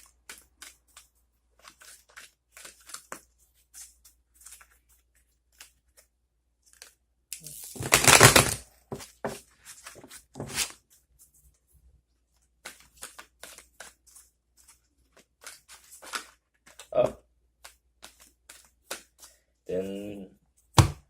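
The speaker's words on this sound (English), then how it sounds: "So we'll do another shuffle" A deck of tarot cards is shuffled for an astrology reading, with scattered dry flicks and taps and a dense burst of riffling near the middle, separated by quiet pauses, close to the listener with a brief voice near the end.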